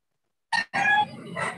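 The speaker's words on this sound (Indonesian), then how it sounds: "Ayam siapa doi?" A chicken crows once near the mic, with a short burst followed by a longer, wavering crow that rises again toward the end, heard alone without speech.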